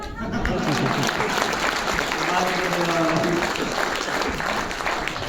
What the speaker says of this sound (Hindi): तब तो मुंह दिखाई की तालियां